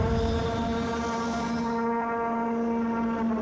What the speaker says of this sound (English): Oh, great. Valu's practicing his trumpet.